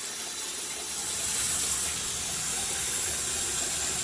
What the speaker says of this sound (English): we're going to turn the faucet on